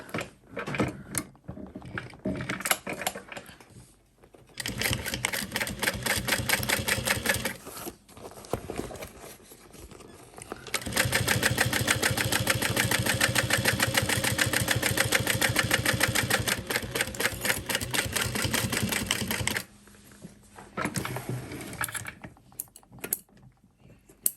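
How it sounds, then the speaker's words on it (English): A sewing machine stitches along the stabilizer of a backpack panel in fast, steady mechanical runs with brief pauses and bursts, close and continuous over roughly twenty seconds. "we're just going to sew along the stabilizer next to, but not through it"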